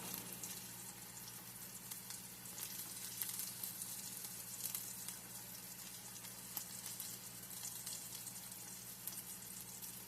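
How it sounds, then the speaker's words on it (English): Steady sizzling and crackling of sausage frying in a pan, a soft continuous hiss with occasional pops, no voices. "Our sausage is hot, and it's frying real good."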